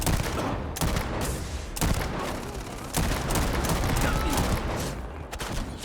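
Nonstop gunfire in the video game Starfield, with dense, overlapping automatic volleys crackling loud and close almost the whole time, and a voice speaking faintly underneath.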